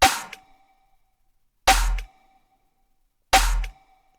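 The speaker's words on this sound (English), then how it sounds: "I get this little tonal layer for the snare that sounds like this." Three evenly spaced hits from a snare layered with a tonal percussion element, each a sharp bright crack carrying a short pitched ring that decays within a fraction of a second, dry and isolated with silence between hits.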